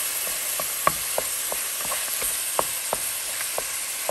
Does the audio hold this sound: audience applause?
no